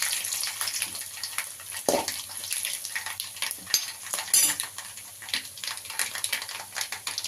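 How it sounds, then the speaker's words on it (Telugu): Tempering spices and chilies fry in oil for sambar, a soft continuous crackle and sizzle with occasional stirring and utensil clinks, fairly quiet and close. "ఇప్పుడు చిట్టుపట వేగేటప్పుడు ఇది మంచి పోపు"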